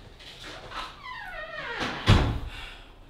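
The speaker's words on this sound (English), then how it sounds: "And close the door." A door swings with a creak and shuts with a solid thump near the end, close by, against a quiet room.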